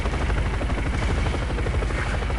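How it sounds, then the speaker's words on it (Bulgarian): Helicopter flying in the video game Call of Duty Black Ops, a loud, continuous rotor thump and engine drone that stays steady and close throughout. "Аз да карам хеликоптери."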